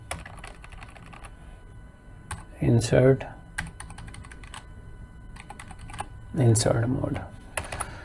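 Light keyboard keystrokes tap irregularly in the background while a person speaks briefly twice over them.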